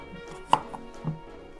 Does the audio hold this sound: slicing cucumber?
yes